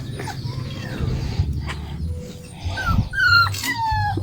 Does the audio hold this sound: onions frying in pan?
no